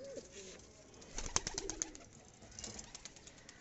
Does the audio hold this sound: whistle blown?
no